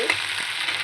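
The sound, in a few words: dried fish (shutki) frying in light oil in a pot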